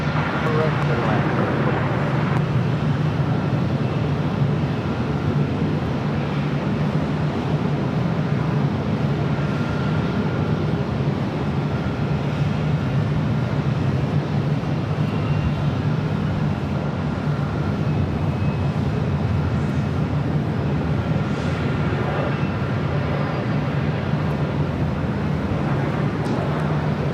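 Airbus A350-900 heavy jet departing at Los Angeles LAX, a continuous loud low roar of jet engines with broad rumble, heard under radio chatter and talk throughout.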